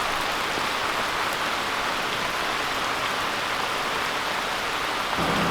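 Heavy rain pours steadily, a dense, constant hiss of water with no break throughout.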